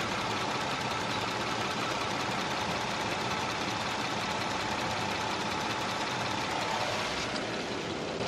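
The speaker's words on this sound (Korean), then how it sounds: "바로 엔진 소리 한번 살펴봐 드릴게요" A Korean large sedan idles with its engine bay open, giving a steady, even hum with faint rhythmic ticking, heard close and alone at a fairly quiet level.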